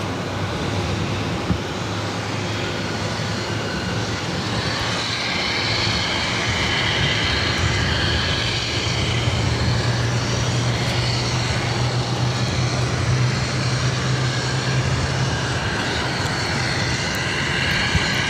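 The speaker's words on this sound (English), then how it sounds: "Lufthansa 422 coming in from Frankfurt on the A340 600 Hotel Whiskey" A Lufthansa Airbus A340-600 arriving from Frankfurt at Boston Logan gives off a continuous engine roar with a low steady hum, moderately loud and unbroken throughout.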